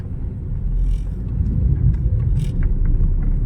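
A car drives along a street in Saudi Arabia, a steady low engine and tyre rumble that stays fairly loud and close for a few seconds, with no talk.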